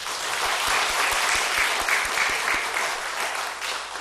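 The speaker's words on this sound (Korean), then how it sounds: "큰 박수로 축복하겠습니다" A church congregation at an Easter thanksgiving service applauds the choir with a burst of steady clapping from many hands that peaks early and starts to fade by the end.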